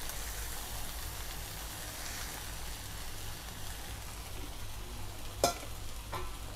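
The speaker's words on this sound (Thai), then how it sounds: "จับกระทะ คนหน่อยครับ" Pink rice noodles are stir-fried in a hot wok, with a continuous close sizzle and scraping stir, plus a couple of sharp utensil clanks near the end.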